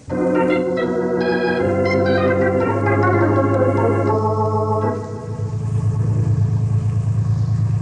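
Cars start up and pull away in an old radio-drama sound effect: a continuous, close engine roar that shifts in pitch partway through and settles into a lower rumble, with no voices.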